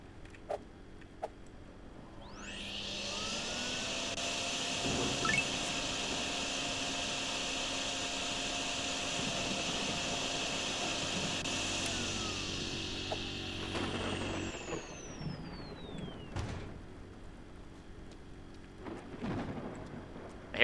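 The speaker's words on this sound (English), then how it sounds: "I hear a generator running that's not mine." A generator hums steadily nearby in a flooded town, starting after a couple of seconds and running as a continuous drone with a high whine, then fading out near the end, with no talking.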